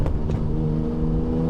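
Sports car accelerating after a downshift from fifth to fourth gear at sixty miles an hour, a loud, close engine note rising smoothly with steady tonal harmonics.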